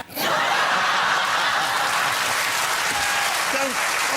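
A comedy club audience breaks into loud, sustained applause mixed with scattered laughter and cheers, a dense wash of clapping from start to finish with a brief voice near the end.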